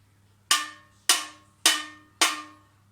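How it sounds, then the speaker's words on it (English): Four evenly spaced metallic taps of a stick on a steel tin, each ringing bright and resonant before fading. "It makes a nice resonant sound when I tap it with my stick."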